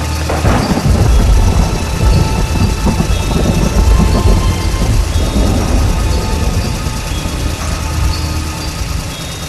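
A night thunderstorm with heavy rain rumbles loudly and continuously, with deep thunder rolls over a dense, steady hiss of rainfall.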